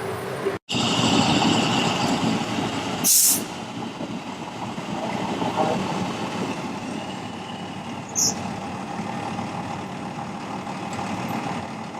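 An E1 Typhoon class Quint fire truck engine idles steadily with a low, constant rumble, broken by a sharp hiss of air-brake release and a couple of brief squeaks, heard close by with no talking.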